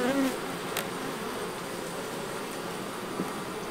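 Honey bees buzzing around hive honey supers, a dense continuous hum close by and steady throughout, with no talk.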